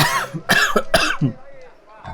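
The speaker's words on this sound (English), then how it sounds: "It sometimes still happens, the coughs." A commentator coughs several times in quick, harsh bursts close to the microphone, with a throat-clearing rasp between them and a brief pause before he resumes.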